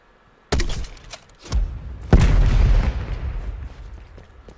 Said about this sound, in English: you're going to shoot your tube while walking forward like so.